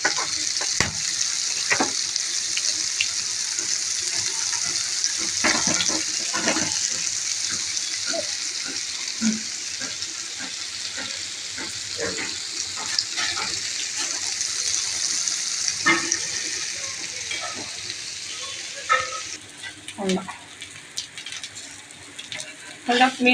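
Eggs sizzle and crackle steadily in hot oil in a home kitchen pan. The frying hiss is close and continuous, with scattered stirring clicks and scrapes.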